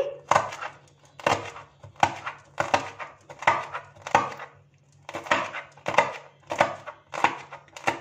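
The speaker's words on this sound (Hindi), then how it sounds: "हरी मिर्च के ऊपर वाले हिस्से को अलग कर लेंगे और इसे इस तरह से 4 हिस्सों में डिवाइड कर देंगे।" A knife chops green chillies on a board, the blade striking in about a dozen crisp, evenly spaced taps in short bursts, close and clear with no talk.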